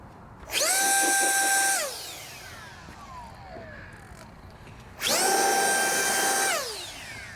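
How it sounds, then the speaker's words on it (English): A Ryobi leaf blower blasting excess water out of crevices on a car during a hybrid wash, two loud sustained bursts of whining airflow that spin up, hold for about a second, then wind down, with no talk. "Ryobi blower, another nice item to have."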